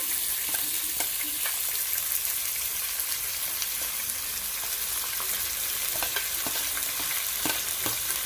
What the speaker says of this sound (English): I'm going to start with my tomatoes. Add in my green pepper, the capsicum